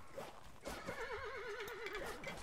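Horses whinny and neigh in a video game cavalry battle, with a long wavering call rising over background battle noise and a few thuds.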